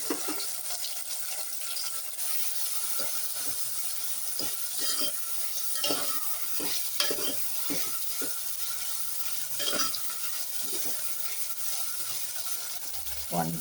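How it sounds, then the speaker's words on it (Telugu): Chopped tomatoes frying in a pan for saag, stirred with steady scrapes and clinks over a continuous sizzle; no voices. "ఇప్పుడు మనం కట్ చేసి పెట్టుకున్న టొమాటో వేసుకొని కొద్దిగా ఫ్రై చేసుకోవాలి"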